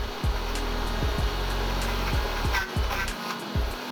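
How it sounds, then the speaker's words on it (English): A food processor blends chickpeas for homemade hummus with a loud, steady motor whir up close, its pitch repeatedly dipping and recovering as the thick mixture catches and loosens. "So we're going to blend again."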